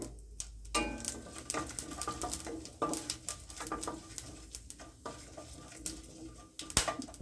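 Cinnamon, cloves, cardamom and fennel seeds splutter in hot oil for rava kichadi, a dense run of sharp crackles and pops of varying loudness, close and steady throughout.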